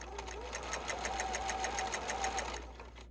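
A sewing machine stitches folded fabric strips into ties for a homemade face mask, running steadily with a rapid, even needle clatter for nearly the whole stretch before easing off near the end.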